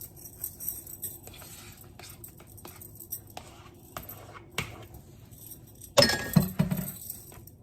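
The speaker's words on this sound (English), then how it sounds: "This is Greek yogurt. And I'm going to stir it first." A spoon stirs Greek yogurt in a glass, giving faint scattered clinks for several seconds and then a louder burst of rapid clinking and scraping near the end.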